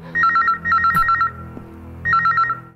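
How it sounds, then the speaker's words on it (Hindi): A telephone rings in an indoor film scene, three electronic trilling bursts in a steady pattern, close and clear with no talk over it. "आपका फोन"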